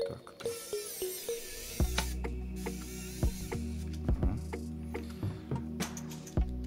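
Kaiweets ES-20 precision screwdriver driving a screw into plastic by hand, giving repeated small ratcheting clicks and mechanical ticks at close range with a low steady hum underneath.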